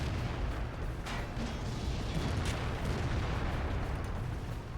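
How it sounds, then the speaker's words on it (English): Artillery fire in a World of Tanks battle rolls on as a dense, continuous rumble of booms and blasts, loud and unbroken for the whole stretch, with no voices. "Look at the amount of artillery fire these guys are taking."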